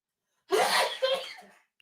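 A single sharp, close sneeze bursts out abruptly and trails off within about a second, followed by near silence.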